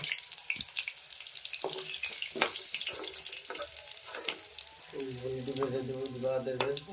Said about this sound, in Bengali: এই আলু কষানো, এই আলু ভাজনো, আলু ফ্রাই হলো